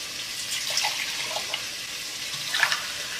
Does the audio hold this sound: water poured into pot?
yes